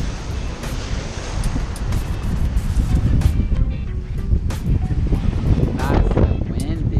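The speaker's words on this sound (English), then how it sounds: "Nice and windy out here." Strong wind blows across a beach after a tropical storm, buffeting the microphone with constant gusty roar over surf, with bursts of crackling wind noise throughout.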